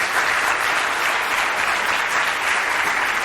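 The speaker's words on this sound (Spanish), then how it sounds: "Los despedimos con un aplauso." Steady, dense applause from an audience closing a public finance forum session, sustained and fairly loud throughout without pause.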